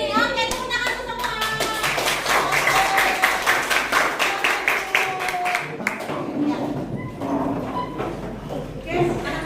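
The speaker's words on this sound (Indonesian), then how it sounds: "Oke, tepuk tangan semua." A primary school class claps hands in a Bahasa Indonesia lesson, a run of sharp rhythmic claps in unison that breaks off midway, with a teacher's voice talking over and after them.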